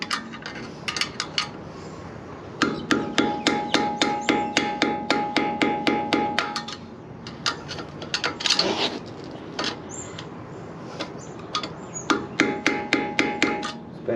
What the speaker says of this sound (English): now it's just got to bend the little tabs over. So you can just use a screwdriver.